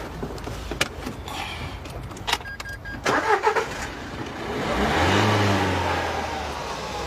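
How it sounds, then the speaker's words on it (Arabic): A 2016 car engine running near by, with a few sharp clicks and knocks before it revs up into a loud, swelling roar that then eases back to a low idle. "لا الموتور باقي زوينه خويا سعيد"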